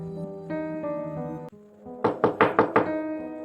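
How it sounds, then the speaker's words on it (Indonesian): A house door is knocked on in an Indonesian story narration: a quick run of five firm knocks, close and loud, follows a low sustained musical tone and a sharp thump. "Suara pintu rumah diketok."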